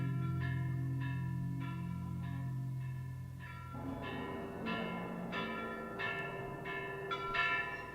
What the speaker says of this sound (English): Suddenly from outside a bell spoke out, then ceased abruptly.